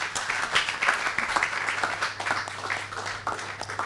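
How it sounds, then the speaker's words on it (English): A seated audience at an evening festival of ideas applauds a Nigerian model. The clapping is moderate and fairly distant, a steady patter with no voices. "please give a round of applause to Ifeoma Wubu"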